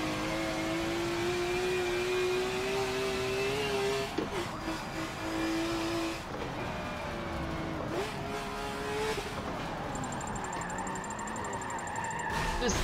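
A BMW race car drifts in Forza 7, its engine holding steady high revs with shifting pitch and a tyre-squeal whine as it slides, loud throughout, with a brief voice near the start.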